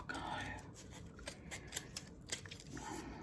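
Scissors snipping paper tags for lace junk journal crafting, a few short crisp cuts close to the microphone over a quiet background with faint breathy sounds.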